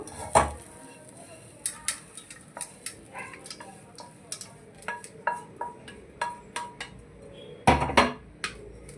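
Coconut rice being served from a pot onto a plate, a spoon scraping and knocking against metal in sharp, irregular clinks and taps with brief pauses, close by and without any talking.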